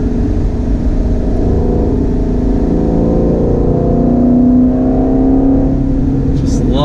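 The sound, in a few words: 2019 Ford Shelby GT350 naturally aspirated V8 exhaust revving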